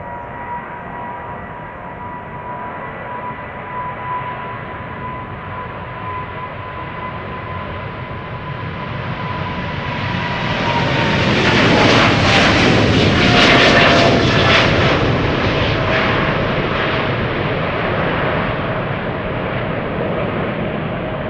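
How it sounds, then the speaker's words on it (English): A KLM Boeing 777-200 bound for Minneapolis rolls out at Schiphol Airport, its jet engines a steady roar with a whining tone that swells and peaks near the middle, then drifts down and holds loud, close and unbroken. "KLM flight 655, 777-200, going to Minneapolis, Minnesota."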